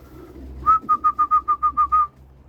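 A short run of nine clipped, evenly spaced tonal calls, close and fairly loud, from racing pigeons in a loft in northern England, over a low steady background hum.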